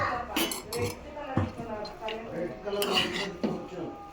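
Ghee rice is scooped into a serving bowl with a string of clinks and knocks of a metal spoon against dishes, several sharp taps spaced irregularly amid some background talk.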